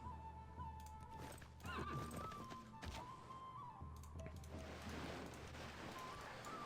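Horses whinny and neigh amid hoof clops and soft thuds in Civilization VI, set against a steady ambient game background, fairly quiet.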